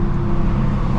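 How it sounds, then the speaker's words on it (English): Audi RS3 exhaust under way, a loud, close, steady low drone of engine and exhaust with constant road rumble, one unbroken second without talking. "Oh, you just can't beat the exhaust now."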